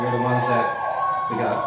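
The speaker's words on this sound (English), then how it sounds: "Excuse the sirens passing by the Colletonian offices here" Emergency sirens wail in the background while a person speaks over them, the tones rising and falling.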